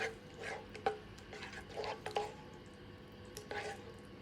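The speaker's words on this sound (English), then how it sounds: "Let's get a scoop." Homemade sausage gravy being scooped and ladled onto biscuits on a plate, with a few soft, wet squishing and scraping sounds, quiet and close, separated by short pauses.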